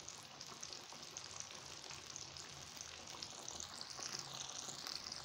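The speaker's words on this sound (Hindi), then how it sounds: "मीडियम हीट पे ही हम इसमें चिकन को फ्राई कर लेंगे।" Chicken fries in oil over medium heat, giving a faint, even, continuous sizzle and crackle that holds steady throughout, with no voices.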